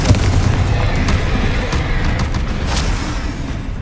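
Confringo blasting curse from Hogwarts Legacy, heard as a dense, sustained rumbling blast with steady booming energy throughout, loud and close with no talk over it.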